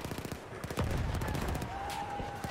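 A rifle shot in Battlefield 1 multiplayer cracks out sharply once, followed by a dense wash of battlefield gunfire and rumble, with a brief tonal whine rising near the end.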